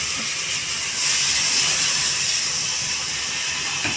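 Water poured into a hot pot of frying mutton sets off a loud, continuous hiss of steam that rises and swells, then holds steady, with no voices.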